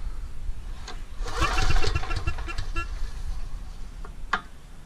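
Repeated pull-start attempts on a Troy-Bilt 8000-watt generator with a Briggs & Stratton 15 HP engine, a rough burst of cranking and sputter in the middle followed by a couple of sharp short pulls, close by with no talking.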